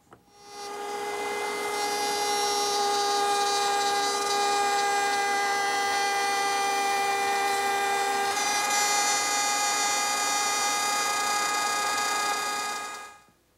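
A router cuts rabbets into wood, a loud continuous high-pitched whine with a steady tone that shifts slightly in pitch midway, starting and stopping cleanly with nothing else heard.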